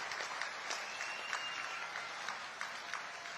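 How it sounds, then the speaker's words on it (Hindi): Faint, distant audience applause welcoming the chief minister at a public event in Devtalab, a steady patter of many hands clapping throughout with no break. "एक बार पूरी ताकत लगा करके तालियां बजा करके स्वागत करिए"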